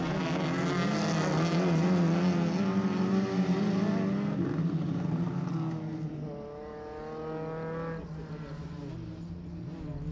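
Rallycross race cars, including a Volkswagen Golf, at Montana: loud engines rev and hold a high strained note, then ease off and climb again as cars pass, with a voice commentating over them.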